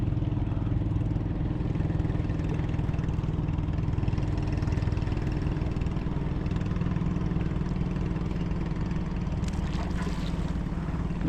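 A boat engine drones steadily and loudly as the boat approaches a pier, a continuous low rumble with a slight rise in intensity, no speech over it.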